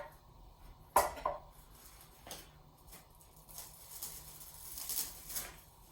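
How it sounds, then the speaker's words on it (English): A serving plate set onto a chocolate cheesecake and flipped over gives one sharp ceramic clink, followed by faint clatters and soft handling noises in a quiet kitchen. "Put your final plate on there and then flip it back."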